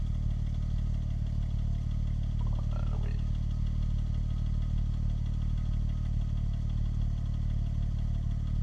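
Porsche 996 Turbo Cabriolet with a six-speed manual, its engine holding a steady low idling rumble throughout, with a brief clatter partway through and no voices.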